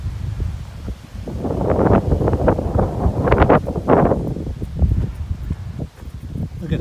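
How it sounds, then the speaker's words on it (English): Strong wind gusting across open English countryside in high summer, a steady roaring buffet on the microphone that swells and eases throughout, with faint rustling underneath. "It's usually windy here, but it's especially windy today."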